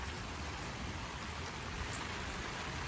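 Steady rain falls across a vegetable garden planted with garlic and cabbage, a dense, even patter of drops that holds constant and alone throughout.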